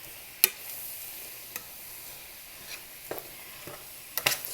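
Mushrooms cooking in butter in a pan for creamy Cajun pasta, a quiet steady sizzle punctuated by a few sharp utensil knocks and scrapes, close but faint.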